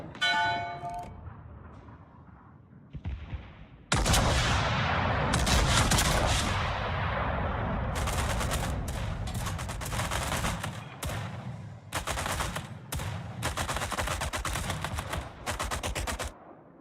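Naval gunfire in the World of Warships video game: heavy, booming salvos in rapid bursts, loud and close, with ringing tails between the volleys and no talking.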